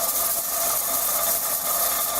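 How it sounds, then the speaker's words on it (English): A pressure cooker full of beef stew starts to pressurize, giving off a steady loud hiss of escaping steam, constant and close with no voices over it. "our pressure cooker just started going"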